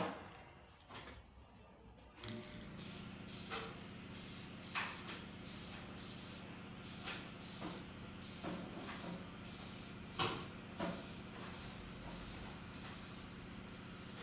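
Candy paint sprayed lightly from a spray gun over lace on a small art piece in a shop, heard as a rapid series of about fifteen short, even hissing bursts after a quieter start, fairly close and steady in rhythm.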